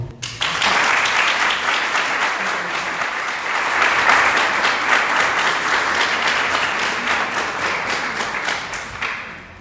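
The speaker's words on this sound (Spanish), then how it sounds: "os pido un aplauso para ella" Loud, dense applause from a crowd at a Spanish public talk fills the room for nearly ten seconds, holding steady throughout and easing off slightly near the end.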